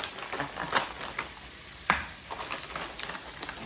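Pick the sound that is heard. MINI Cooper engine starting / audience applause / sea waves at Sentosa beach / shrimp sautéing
shrimp sautéing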